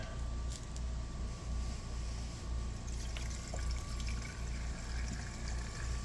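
Gasoline flushing out of a small engine's fuel line: a steady, close, continuous liquid rush with low-end rumble and no talk over it.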